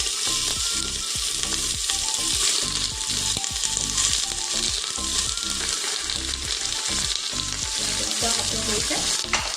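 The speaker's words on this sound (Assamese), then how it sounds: "এতিয়া মই গাহৰি মাংসৰ যোনখিনি চৰ্বি অংশ সেইখিনি দি দিম।" Pork fat sizzles and fries loudly in a hot pressure cooker with no added oil, a continuous crackling spatter with bursts of popping and occasional stirring scrapes.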